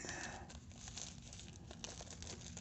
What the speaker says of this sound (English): So we're going to get the plastic wraps off of this